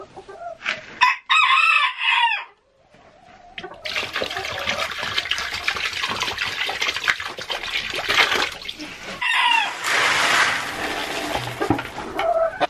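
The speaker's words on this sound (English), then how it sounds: "We have less chickens in there now." Chickens in a coop cluck and a rooster crows loudly up close, with busy clucking and rustling carrying on after a short pause, and faint water sounds mixed in.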